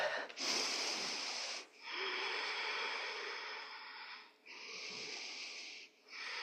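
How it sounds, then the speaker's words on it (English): Deep breathing during a somatic exercise, long slow airy inhales and exhales close to the microphone, separated by short pauses, with no talking. "Breathe deep."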